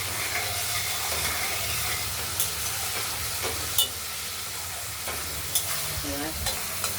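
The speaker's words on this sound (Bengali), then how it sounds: "মশলাটা থেকে কষাতে কষাতে তেল বেরিয়ে গেছে।" Spice paste sautéing in hot oil for a katla fish and potato curry gives a steady, dense sizzle and fry. Occasional sharper spatters and stirring scrapes sit on top, close and continuous with no talking.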